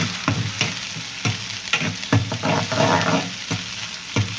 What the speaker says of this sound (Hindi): प्याज को गोल्डन कर लेते हैं। गोल्डन होने तक इसको भुनेंगे।